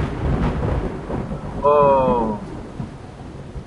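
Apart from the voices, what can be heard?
thunderstorm thunder in a horror video game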